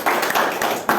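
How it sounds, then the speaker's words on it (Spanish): Brief applause after a first communion Mass honoring a deacon, a short burst of close clapping from a few people, loud and over in about a second. "Un aplauso, don Boris."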